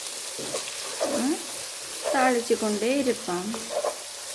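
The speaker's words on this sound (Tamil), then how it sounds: "கிழங்குல இருக்கிற தண்ணி இப்போ கொஞ்சம் வத்தி இது வந்து இப்போ பொரிஞ்சு கொண்டு இருக்குது" Potatoes and prawns fry in a pan with a steady, moderate hiss while a voice sounds intermittently over the sizzle.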